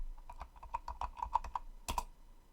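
Terminal command typed on a computer keyboard: a quick run of crisp, close key clicks in a steady rhythm, ending with two heavier strikes like an enter press, with no talk.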